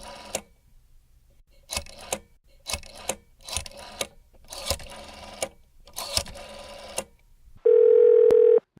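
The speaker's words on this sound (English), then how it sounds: "The number is dialing." A rotary-dial telephone without touch tone dials a number: bursts of rapid clicking pulses, one for each digit, with short pauses between them, then a steady, loud ringback tone at the end.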